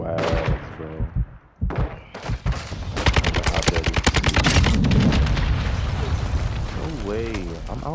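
An RPK machine gun fires in Call of Duty: Modern Warfare 2 as a sustained rapid burst of loud, evenly spaced shots. Scattered impacts come first, and players talk over the action.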